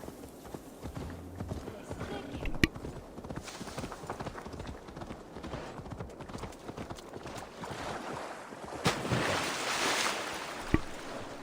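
A horse swims through water in an Assassin's Creed video game, with rhythmic splashing and hoof-like strokes over a continuous watery wash, while someone talks over it.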